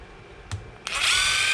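Power driver removing long screws from the plastic skid plates of a Traxxas E-Revo 2.0 RC car: a brief click, then a loud, steady whirring spin up close.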